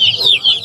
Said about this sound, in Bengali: এখানেও দেখতে পাচ্ছিলাম খুব সুন্দর দুইটা মোরগ আছে